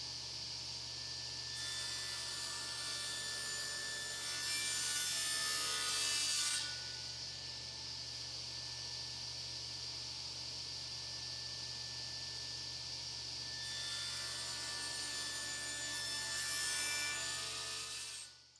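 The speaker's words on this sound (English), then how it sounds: "I began by cutting the walnut stock into two pieces" Walnut stock being hand-cut into two pieces for the beam and head of a marking gauge, steady saw rasping strokes up close and sustained throughout with no talking.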